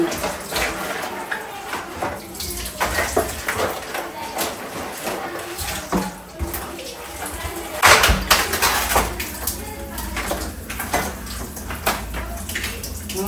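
A pot is scrubbed and rinsed under running water, with scraping, clanking metal and splashing throughout, and a sharp clatter midway.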